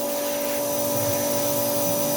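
A vacuum fixture holding a plate for drilling runs with a steady, loud hum and a whine, close by and alone.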